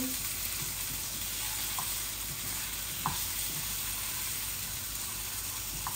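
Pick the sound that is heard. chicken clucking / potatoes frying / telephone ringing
potatoes frying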